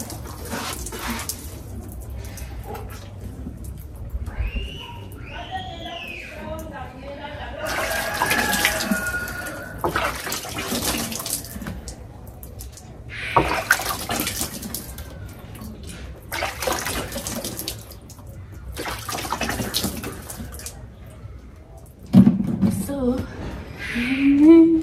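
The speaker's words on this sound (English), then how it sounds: "This is how we bathe here in the village." Water poured over the body during an outdoor bath in a Ugandan village, repeated splashing bursts several seconds apart with trickling between, close by, with a person talking at times.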